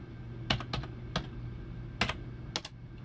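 Short bursts of keystrokes clatter on a computer keyboard, quiet and close, with scattered individual taps over a low steady hum and no voices.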